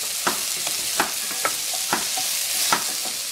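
Onion, scallion, ginger and garlic frying in a hot pan, a bright continuous sizzle punctuated by regular spatula scrapes about every half second, close and clear.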